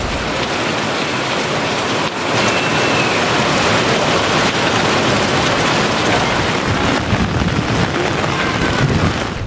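Sudden heavy summer evening rain pours down in Tamil Nadu; a dense, loud, steady hiss of falling water and drops hitting surfaces continues without a break and without voices.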